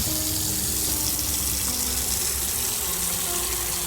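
Water filling a container in the game Autopsy Simulator, heard as a steady, loud, close tap-like gush that holds even throughout with no talking.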